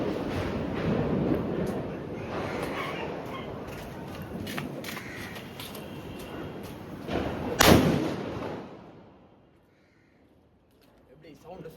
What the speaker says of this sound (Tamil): வெடிச்சு எப்படி இருக்குன்னு சொல்லிட்டு சவுண்டு பார்ப்போம்